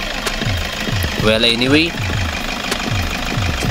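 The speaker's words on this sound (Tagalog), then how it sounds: "Pakinggan natin ang andar ng makina." A Toyota car engine idling on Toyota Genuine Motor Oil, with a steady close rhythmic ticking pulse throughout, briefly overlapped by a person speaking.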